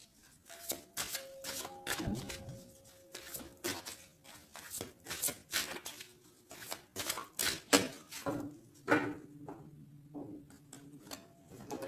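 Tarot cards being shuffled and cut by hand, a string of crisp riffling bursts and soft slaps in an irregular rhythm, close and fairly quiet, with no talking.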